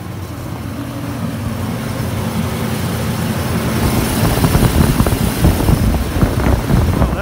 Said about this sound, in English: Both fans are on. She is purging the air out now.